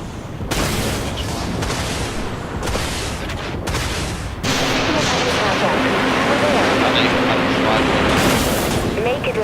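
Artillery cruiser gunfire in the Dreadnought space combat game, heavy booming volleys and explosions crashing in repeated bursts, loud and close, with talk over the battle.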